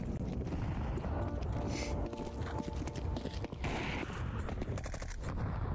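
Rapid automatic gunfire in a Counter-Strike 2 casual match on the Mirage map, loud and nearly continuous, with dense overlapping shots and brief bursts.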